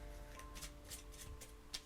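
Tarot cards being shuffled, heard as soft, rapid bursts of riffling and light clicks in a steady, uneven rhythm, very quiet and close with no talking.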